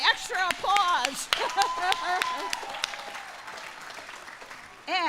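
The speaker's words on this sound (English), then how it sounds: "yay, extra applause" An audience at an outdoor college commencement ceremony applauds with a dense patter of clapping that fades away. A speaker talks over the applause.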